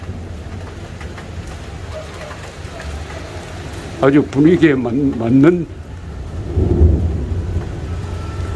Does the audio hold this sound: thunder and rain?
yes